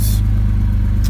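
A project car's engine runs steadily through its exhaust, a deep continuous rumble close by with a brief hiss at the start and end, no talking.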